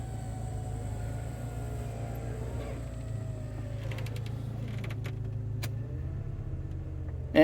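The power windows of a Saab 900 Turbo convertible run with a steady electric motor whine over the idling engine, ending in a soft thump near the close.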